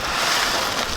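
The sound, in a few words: wind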